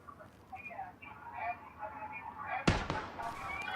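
Gunfire in PlayerUnknown's Battlegrounds: one sharp, loud report near the end, with a second shot right after, over faint game ambience and soft voice chatter.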